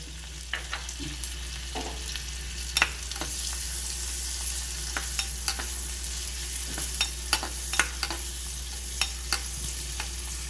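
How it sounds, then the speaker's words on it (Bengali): Chopped onion frying in melted butter for a shahi chicken gravy keeps up a steady sizzle, with light clinks and scrapes scattered throughout as it is tossed in the pan, under a constant low hum. "বাটারটা গলে গেছে, এর ভেতরে দিয়ে দিচ্ছি কেটে রাখা কিছুটা পেঁয়াজ। পেঁয়াজটা এখানে হালকা টস করে নেব।"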